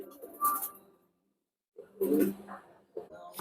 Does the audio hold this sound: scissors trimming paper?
no